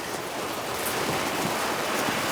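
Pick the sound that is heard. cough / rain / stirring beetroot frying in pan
rain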